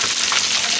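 Fish frying in hot ghee for a masala dish, a steady close hiss of sizzling oil that runs without a break through the short moment, with no voices.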